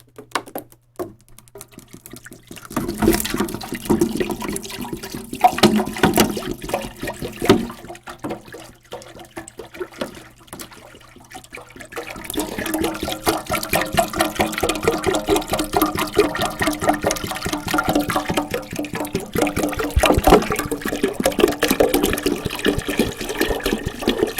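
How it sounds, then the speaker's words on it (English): Deionized water gushes and splashes into an ultrasonic cleaner tank in two bursts, a brief pause between them, then a steady filling rush that continues to the end. "Filling it up with some deionized water."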